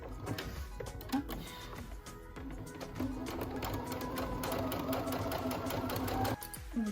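Sewing machine running a straight stitch along fabric hems, starting with a few short bursts and then settling into a steady, close mechanical whirr that stops abruptly near the end.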